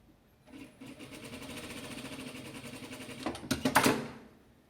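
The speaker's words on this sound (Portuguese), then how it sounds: "Vou costurar umas 2, 3 para vocês verem." A sewing machine stitches Christmas towel patchwork made from fabric scraps, running in a steady fast rhythmic whir that speeds up into a louder, choppier burst near the end before stopping, close and alone.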